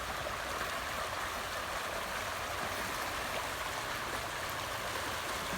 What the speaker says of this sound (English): The waterfall is trying to come back, but the creek's still pretty high.